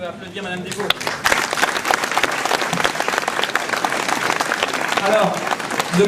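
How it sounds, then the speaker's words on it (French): An audience at the Ouistreham mayor's New Year address applauds Madame Desvaux, sustained loud clapping after a brief spoken moment at the start, with voices mixed in. "On peut applaudir Madame Desvaux."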